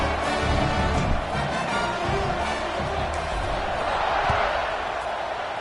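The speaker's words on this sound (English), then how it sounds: "this crowd is feeling themselves after that last drive" Dense, steady roar of a large stadium crowd at a college football game between Oregon and Arizona State as the kickoff unit lines up, a broad, sustained wash of cheering with a commentator talking over it.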